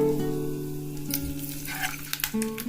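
Green chilies, garlic and ginger fry in a pan for a curd capsicum sabji, a steady close sizzle with a few brief stirring scrapes and clinks near the end.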